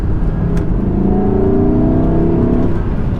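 An Audi R8 RWD Performance Edition supercar engine revs steadily and loudly, its pitch climbing and holding with a smooth throaty roar and no talking.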